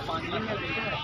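A goat bleats at a goat market with high-quality breeding does, a wavering, nasal cry heard close up beneath someone talking.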